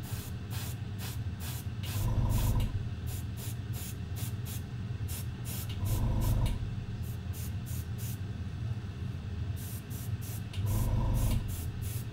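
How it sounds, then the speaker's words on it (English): Water hisses out in short, repeated sprays with a steady background rush. Three longer, heavier bursts stand out at regular intervals. "That water that you're seeing spraying everywhere is actually me being really messy."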